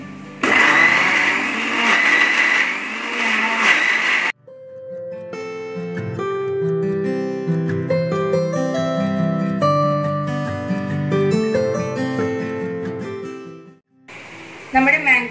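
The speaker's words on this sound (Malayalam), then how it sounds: "നമുക്കിനി നമ്മുടെ ഷേക്ക് അടിച്ചെടുക്കാം." A blender whirs loudly for about four seconds while mixing a mango shake with butterscotch ice cream, then gives way to music and briefly roars again at the end.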